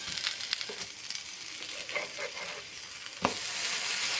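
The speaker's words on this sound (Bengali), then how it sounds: "বেগুনগুলো আমি অল্প তেলে ভাজবো।" Eggplant slices fry in a little oil, giving a close, steady sizzle broken by light scraping and turning clatters, with one sharper knock near the end.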